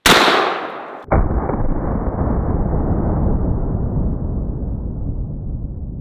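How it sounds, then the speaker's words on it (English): A lever action rifle fires at targets outdoors: one sharp loud crack, a brief pause, then a second blast that rolls into a long, slowly fading rumble. "Were you really about to watch me shoot these disgusting targets"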